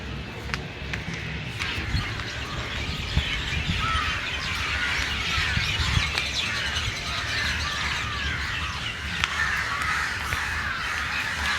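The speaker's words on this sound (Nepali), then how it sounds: "यता चराहरू पनि कराइरहेको" Crows cawing repeatedly at a middle distance beside a pond, mixed with scattered chirps from other birds over a steady outdoor hum.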